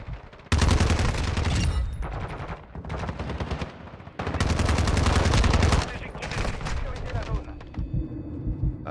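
Rapid automatic gunfire from the Call of Duty video game, in loud sustained bursts separated by short pauses, with a voice speaking over it.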